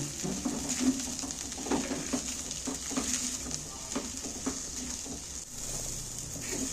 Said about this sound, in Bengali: আমি একটু মশলার সাথে চালগুলো মশলাটা কষিয়ে নেব